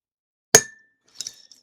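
A clear glass whiskey bottle with a rubber stopper gives one sharp clink, followed a moment later by a softer cluster of light taps, close and alone in otherwise silent surroundings.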